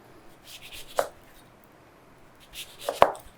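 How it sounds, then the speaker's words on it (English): A knife slicing oranges into wedges on a cutting board: two sharp, close chops about two seconds apart, with quiet between them and no voices. "we're just gonna slice these in half so that we can get some really pretty wedges"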